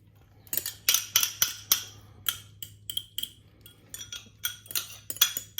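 An egg is beaten in a bowl for cinnamon roll dough, a utensil clicking against the bowl in quick, fairly regular strokes, close and crisp with no talking.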